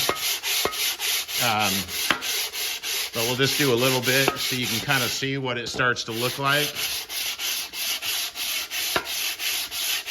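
Abrasive sanding on the deck surface of a Chevy 350 engine block, a steady scrubbing rasp that runs throughout, with someone talking over part of it.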